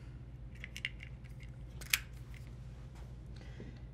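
A T15 Torx driver loosens the cam screws on a compound bow, giving a few sparse, quiet metallic clicks and ticks, one sharper snap near the middle, over a low background hum.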